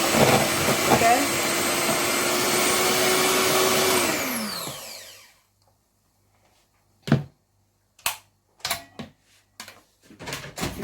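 An electric hand mixer whisks pancake batter in a bowl, a loud steady motorized whir that spins down and cuts off, followed by a few sharp clunks and knocks of utensils and bowl.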